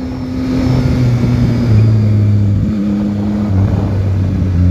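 A 2021 Yamaha MT-09 Euro5 motorcycle engine holding a loud, steady droning tone through a tightening bend, the pitch shifting as revs change, with brief pops underneath.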